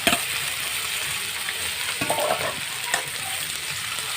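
Boiled water spinach (kalmi shak) is dropped onto fried onions in a hot pan, raising a continuous close sizzle with a few sharp utensil knocks and clatters scattered through it, no voices.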